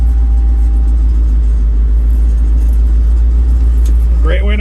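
Low-speed engine of a manual-transmission vehicle chugging along in gear at about two miles an hour, a steady deep rumble that stays loud and constant throughout.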